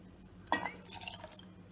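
Water from boiled jackfruit seeds is poured into a pot for horse gram sambar, a brief soft splash and trickle, quiet and close.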